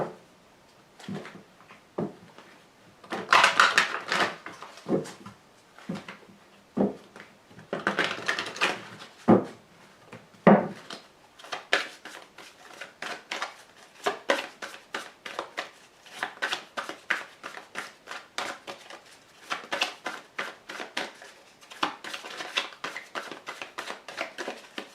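Cards from a Lenormand grand jeu deck are handled and drawn in a long run of soft, close flicks, slaps and rustles, some bursts louder, with no voices.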